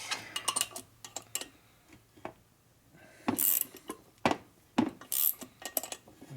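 A ratchet wrench turns a nut on a 1961 Harley-Davidson FL panhead engine during a rebuild. Quick metallic clicks come in short bursts, with a few louder clacks and scrapes between quieter pauses.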